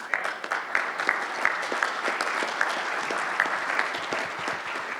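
Audience at a leadership panel discussion and workshop clapping, a sustained round of applause with dense claps throughout, fairly close and even, slightly thinning toward the end.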